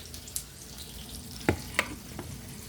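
Pork chops frying in a pan over medium heat, a steady close crackling sizzle with a few sharper pops and spatters standing out above it.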